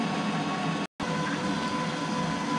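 A printer running a print head cleaning cycle: a loud, steady whirring mechanical hum that cuts out for a split second and then resumes, with no voices.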